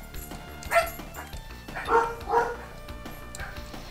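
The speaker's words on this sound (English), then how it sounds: "Sorry about the dogs there." Dogs barking in the background while a strategy game plays, several sharp barks in a loose cluster, the strongest near the start and a pair about halfway through, moderately distant over steady game music, no voices.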